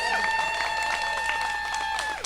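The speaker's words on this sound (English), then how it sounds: "Let's give the winning team of Lefferts Gardens another round of applause." Round of applause for the winning Lefferts Gardens team at an outdoor Brooklyn press conference for the Greenest Block winners, a steady spread of clapping heard behind sustained tonal hum and faint crowd voices.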